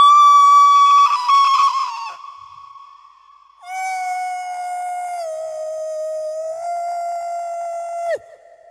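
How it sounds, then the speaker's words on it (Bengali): A train sounds its whistle in two long, loud tonal blasts, a shorter first one and then a sustained second one that holds steady before cutting off sharply. "ট্রেন হুইসেল মারছে।"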